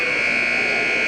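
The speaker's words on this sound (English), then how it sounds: "And we got a buzzer, which means the end of the third quarter." Girls' high school basketball game buzzer ending the third quarter: one loud, steady electronic tone held for the whole moment, droning over faint gym noise.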